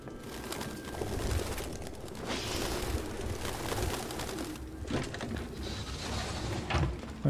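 Pigeons fluttering and cooing indoors in the video game Detroit: Become Human: soft, irregular wing flaps and rustles with faint coos over quiet room ambience, no talking.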